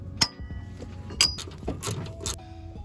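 Brief metallic clicks and clinks from a ratchet loosening a 17 mm bolt on a Miata coilover, irregular and fairly faint over low background noise.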